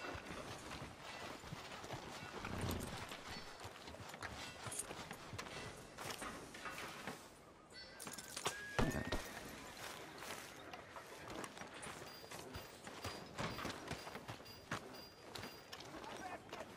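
Horse hooves clip-clop steadily in Red Dead Redemption 2 as a rider arrives in town, a continuous mid-distance trotting rhythm running under voices talking throughout.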